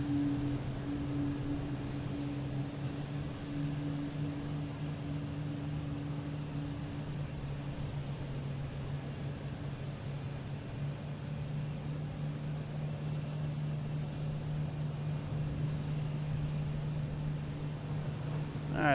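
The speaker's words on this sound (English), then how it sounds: "Here's an A320 heading to San Juan, flight 561." Airbus A320 jet airliner departing Boston Logan on a flight to San Juan, a steady distant engine roar with a low hum holding for the whole stretch, no voices over it.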